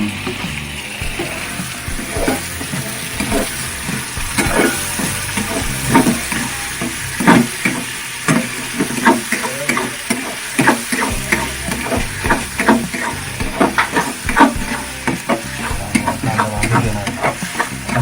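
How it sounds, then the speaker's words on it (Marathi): Chopped onion sautés in a pan for a rustic homestyle mutton curry, a steady sizzle broken by repeated scraping stirs of a spatula, close and fairly loud with no talking. "आता कांदा परतून घेणार"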